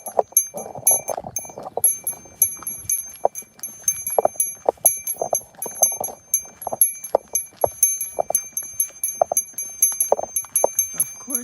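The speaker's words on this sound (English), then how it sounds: "Of course, my bell is going off." An electronic alert chimes in repeated high pulses during an outdoor walk in Japan, layered over rhythmic footsteps and soft ambient street noise.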